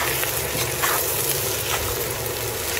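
Carrot, chayote and cauliflower stir-fried for chopsuey in a hot pan, giving a steady close sizzle with soft scraping stirs throughout, no voices.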